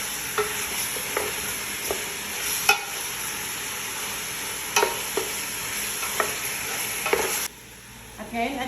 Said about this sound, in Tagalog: Halu-haluin ko habang mag-white yung meat